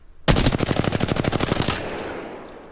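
Automatic gunfire at a training dummy in Apex Legends on PS4: a rapid, loud burst of roughly seventeen evenly spaced shots lasting about a second and a half, then a fading tail, with no talking.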